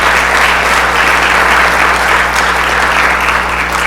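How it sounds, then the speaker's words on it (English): An audience at a labor award breakfast bursts into sustained, loud applause, a thick wash of many hands clapping at once with a low steady hum beneath it. "Let's give them all a round of applause."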